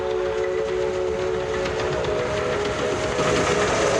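A train heard in a sound-driven board game pulls away in a steady, loud rolling rumble, with a sustained tonal whine riding over it, running unbroken for about four seconds before cutting off abruptly.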